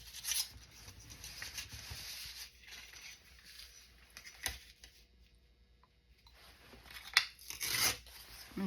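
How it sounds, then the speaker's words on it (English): Soft, close rasping and tearing of backing paper or tape being peeled away while making a paper journal with ephemera holders, in several short rustling bursts with quiet pauses between them. "and then I'm going to take this and I'm going to tear that back."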